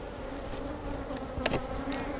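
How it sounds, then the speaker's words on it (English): Honey bees buzz softly and steadily close by around a hive, a low droning hum with a brief louder pass of one insect near the middle. "There might be a dozen bees or so left in this from the other hive over there"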